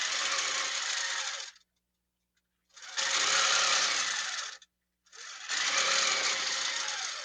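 Baby Lock quilting sewing machine stitching with a ruler base, running in three steady bursts of a few seconds each with short silent pauses between them, loud and close.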